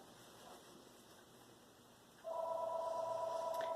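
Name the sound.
telephone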